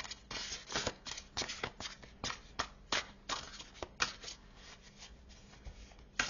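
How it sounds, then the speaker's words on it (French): Tarot cards are drawn and shuffled by hand, a soft close flurry of quick papery riffles and slaps that repeats in uneven bursts for several seconds, fairly quiet with no voice. "je vais en tirer une du tarot pour terminer"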